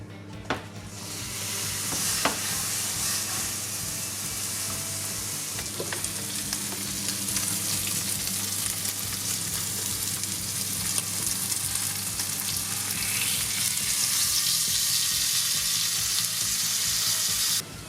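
Picanha fat rendering in a pan: a loud, continuous close sizzle with faint occasional scrapes, holding steady for about eighteen seconds with no voices.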